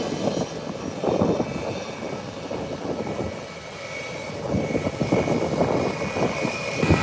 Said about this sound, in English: JetBlue is heading into the parking gate, whilst United is getting ready to push back.